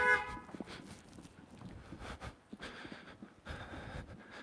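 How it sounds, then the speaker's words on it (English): A car horn honks on a street near a senior center, the short toots sounding over steady outdoor background noise at moderate distance. "That car's honking at the seniors over there."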